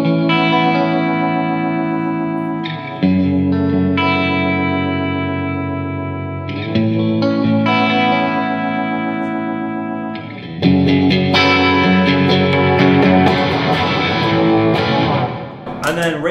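Electric guitar part with swelling, reversed-sounding notes that builds, then switches to a heavier distorted tone for the final stretch.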